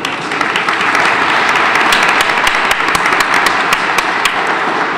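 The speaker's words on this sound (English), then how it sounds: "Give yourselves a round of applause." Loud, dense applause from a large crowd gathered at a state capitol event, sustained and even for several seconds with sharp individual claps standing out, no speech.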